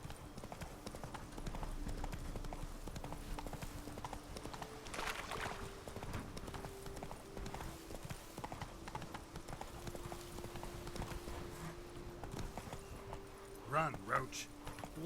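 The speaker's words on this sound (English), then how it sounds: "Come on, ride, you silly horse." Hooves of a horse in the video game Witcher 3 clip-clop steadily at a trot or gallop throughout, with someone talking over the rhythmic footfalls and a brief louder burst near the end.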